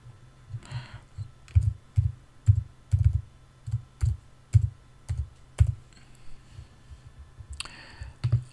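Rapid, uneven keystrokes on a computer keyboard as a field name is typed, a quick burst of close, crisp clicks with short pauses over a low steady hum.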